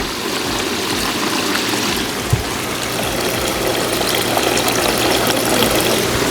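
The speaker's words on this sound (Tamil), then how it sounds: "உங்களுக்கு வேண்டிய வாட்டர் ஃபவுண்டன் இவங்கள்ட்ட இருக்கு." Decorative water fountain flowing steadily, a continuous close splashing and trickling wash like a small waterfall, even in level throughout with a brief low thump near the start.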